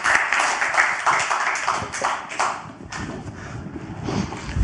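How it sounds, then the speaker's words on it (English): A group of people gives a round of applause at a talk, steady close clapping that carries on for the whole few seconds and thins slightly midway. "Give Jonathan a round of applause, guys."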